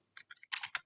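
Quick keystrokes on a computer keyboard, a handful of close, crisp clicks in short uneven bursts with brief gaps, heard alone without talking.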